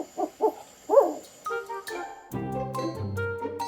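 An owl gives several short, low, rhythmic hoots at moderate distance, followed by sustained tonal notes that fill the remainder, no voices.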